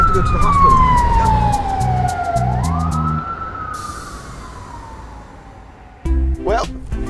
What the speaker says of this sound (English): They got their lights, their sirens.